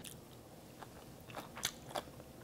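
Kimchi is bitten and chewed close by, with faint crunchy bites and moist chewing, a few louder crisp crunches near the end against a quiet background.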